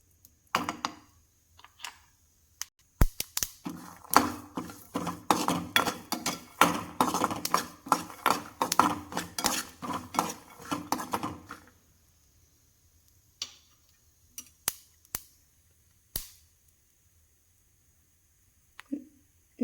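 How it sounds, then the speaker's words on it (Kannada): Sesame seeds spluttering in hot oil in a pan while frying for a North Karnataka stuffed brinjal curry: a dense run of sharp pops and crackles for about eight seconds, then a few scattered pops into near silence. "ಈ ಥರ ಪಟಪಟ ಅಂತ ಸೌಂಡ್ ಬರಬೇಕು, ಎಳ್ಳು ಸಿಡಿತಾ ಇರಬೇಕು"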